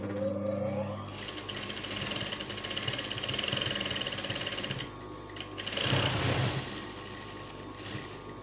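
A sewing machine stitches velvet trim onto the inner neckline of a notched jacket collar, running steadily and close at mid volume, with a brief pause and a louder burst of stitching near the end.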